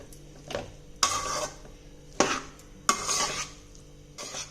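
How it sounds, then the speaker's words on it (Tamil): Bottle gourd rice being stirred in a metal pan, a spoon scraping and clattering in four distinct bursts with quiet gaps between, close and fairly loud with no talking. "அப்படியே கிளறி விட்டுட்டோன்னா"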